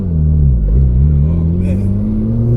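A Porsche 911 GT2 with a manual clutch and KW V3 suspension, engine droning loudly from inside the car while driving. A steady low engine note rises gradually in pitch as the throttle is applied.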